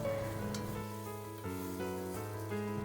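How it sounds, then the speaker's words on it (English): Egg tofu slices and Nestum cereal stir-fry in a pan, a steady soft sizzle with faint scraping from the pan bottom, quiet and continuous without talk. "Gently scrape the ingredients from the bottom of the pan without breaking up the tofu"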